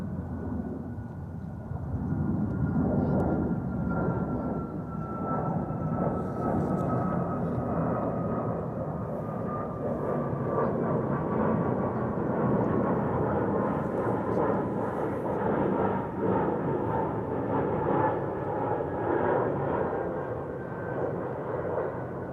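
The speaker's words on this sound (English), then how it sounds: "Unexpected go around by a jet." A jet aircraft goes around at Amsterdam Schiphol Airport, a broad distant roar that holds steady and swells slightly as it passes, rumbling continuously throughout.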